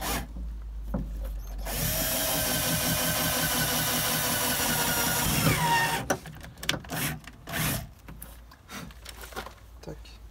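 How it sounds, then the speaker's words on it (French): A power drill bores holes in a car door panel for rivets during a drift car build, a steady close whine for about four seconds, then short stop-start bursts and clicks. "je suis parti pour percer et puis poser mes rivets petit à petit."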